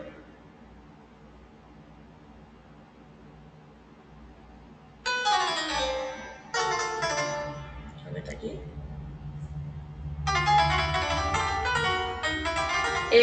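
Tinny piano notes played from a small phone speaker, a few short phrases with pauses, following a brief spoken line.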